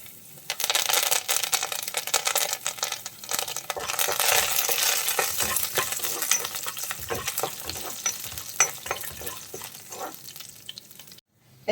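Dried red chilies and curry leaves sizzle steadily in hot oil in a pan, with continuous frying crackle and scattered scraping taps of a spoon stirring, no voices.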